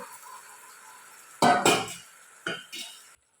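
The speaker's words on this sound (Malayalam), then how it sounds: "ഇനി ഇതിനകത്തേക്ക് ഈ വെല്ലം ഉരുക്കി വെച്ചേക്കുന്നത് ഒഴിച്ച് ഒന്ന് മിക്സ് ചെയ്തെടുക്കാം" Melted jaggery poured over banana pieces and mixed in a home kitchen: a few sharp metallic clinks and knocks of a spoon against the pan, two close bursts then two lighter ones, over a faint background hum.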